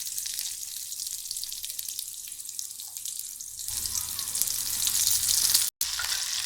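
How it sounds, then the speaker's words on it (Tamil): Mustard seeds and onion fry in hot oil for a Tamil spinach and lentil curry, a continuous crackling sizzle that grows denser and louder midway, with one brief dropout near the end. "எண்ணெய் ஊற்றி கடுகு போட்டு அப்புறம் வெங்காயம் போட்டுக்கலாம்"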